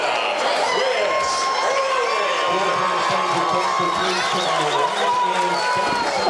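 A packed crowd at an amateur cage-fight event roars and shouts for a wrestler from Rock Hill, South Carolina, a loud continuous wall of cheering and whoops with a commentator talking over it.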